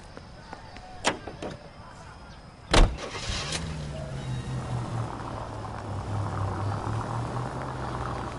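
A car engine in the LA Noire video game starts with a few sharp knocks and a heavy thump, then settles into a low, steady engine drone that holds at moderate volume to the end.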